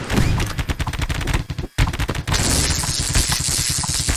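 Rapid bursts of gunfire from a newly acquired weapon in the survival game Keplerth, loud and dense, with a brief gap before the shooting resumes and continues steadily.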